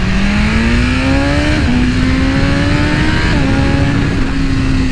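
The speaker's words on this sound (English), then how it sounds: "I feel like it revs the same as my S1000." Red 2023 BMW S1000RR sport motorcycle under way, its engine revving loud and close in rising pulls, with two quick upshifts breaking the climbing whine, and no talk.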